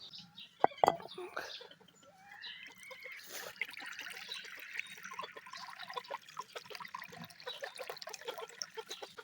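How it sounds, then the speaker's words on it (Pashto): Chickens and fowl cluck and call in a village yard while water is poured out for them, busy close clucking and chatter over faint trickling, with someone talking at the start. "که دې مرغو او چرګو اوازونه کول چې مونږ وږي یو تږي یو"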